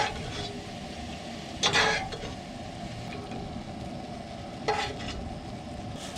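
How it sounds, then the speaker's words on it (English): Cajun food sizzles steadily in a camp pan while a utensil scrapes it onto a camp plate, with two sharp scraping scoops standing out over the continuous frying hiss. "So I got my other camp plate. Just gonna scoop this all off."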